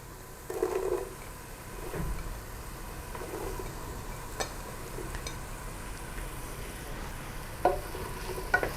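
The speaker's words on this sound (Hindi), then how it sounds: "गाजर को फ्राई होते 5 मिनट हो चुके" Carrots fry in a covered pan on a low flame before other vegetables go in, a quiet, even sizzle with occasional soft stirring knocks and a couple of faint clinks, no one talking.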